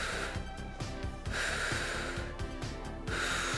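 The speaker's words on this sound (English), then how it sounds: "Exhale and inhale." Audible breaths during a seated cardio workout, several forceful exhales and sharp inhales in a repeating rhythm, close and clear over steady background sound.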